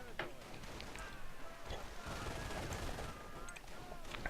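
Machine gun fire rattles from an MG squad in a real-time strategy game, with rapid bursts running under a commentator's voice.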